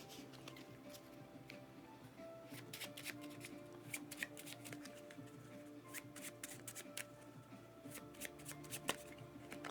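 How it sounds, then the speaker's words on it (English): A deck of Mage Knight board game cards being shuffled by hand, with quick riffling and crisp flicking bursts in an irregular rhythm, close and quiet, with no talking. "We'll shuffle these up again."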